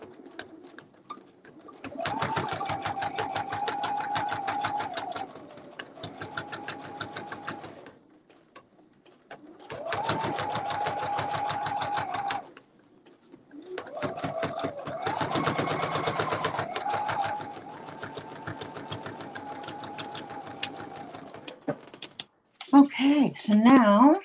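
A sewing machine stitches down a dinosaur appliqué on a quilt in three steady, rapid buzzing runs separated by short pauses, close and loud, with a brief voice near the end.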